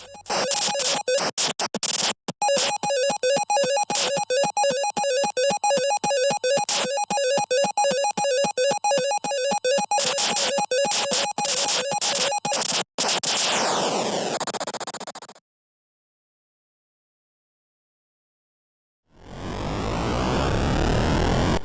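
Harsh buzzing Atari 2600 Centipede game sounds with rapid repeating blips, then a sweeping noise burst, a silent gap, and another descending noisy sweep.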